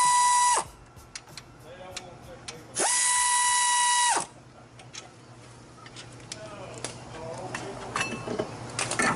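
A power tool removes a brake caliper bracket from a car wheel, two loud, steady whirring bursts separated by ratcheting clicks and scattered metallic handling noises, close by, with a person talking.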